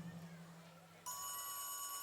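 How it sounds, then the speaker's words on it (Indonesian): A telephone starts ringing halfway through with a bright, sustained electronic ring, following a quiet stretch with faint background voices on a Balinese comedy stage. "ada telepon Dadong"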